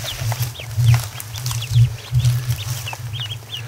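Tiny crossbreed ducklings peep in quick, high chirps, several scattered overlapping calls close by over a steady low rumbling drone.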